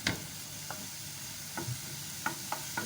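Oil heating in a pan for frying chicken and vegetable samosas, with a faint, steady sizzle and a few sharp clinks and stirring taps scattered throughout.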